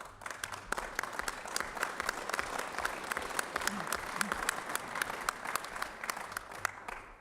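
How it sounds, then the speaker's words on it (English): Audience applause fills a public policy committee hearing on a drilling ban, sustained dense clapping from a crowd for several seconds, fairly distant in a large room. "And let the record show that his applause was louder."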